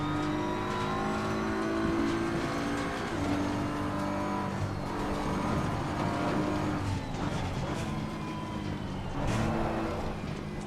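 Race car engine in a sim racing game on the Nordschleife, a loud continuous roar with rising and falling revs and brief dips as gears shift down, with no talking.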